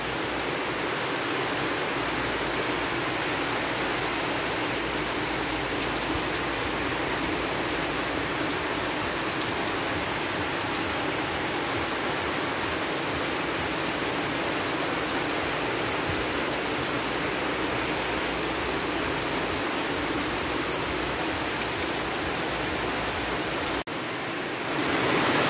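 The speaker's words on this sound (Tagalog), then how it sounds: "Tagal tumuhila ng ulan po, friendship." Heavy rain pours steadily over flooded rice paddies near a house, a dense, unbroken hiss lasting the whole stretch, loud and close, with no talk.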